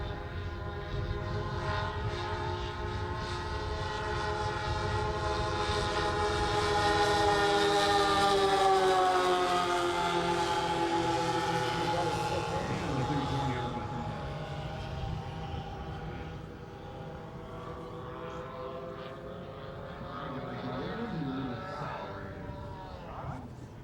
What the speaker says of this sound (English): Here comes Steve's 747. Got the power on, got the nose down,